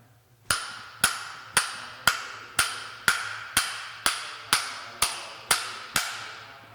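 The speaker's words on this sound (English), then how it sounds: "take a socket that's just the right size for that hole, and take a hammer" A hammer strikes a socket twelve times to knock out a leaky seal on a trolley truck, a steady, even rhythm, each sharp ringing metal tap decaying before the next, close and alone.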